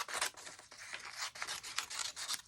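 Scissors cut through cardstock while a stamped greeting card is assembled, giving a close, quiet run of short crisp snips and rasping blade strokes in an uneven rhythm, with no voices.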